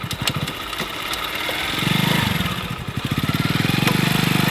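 A homemade three-wheeled bike's engine sputters, revs and then settles into a loud, rapid, evenly pulsing idle close by, with brief clatter near the start.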